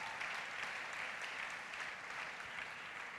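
A church congregation applauds, a steady wash of many hands clapping at moderate distance, fairly faint and even throughout.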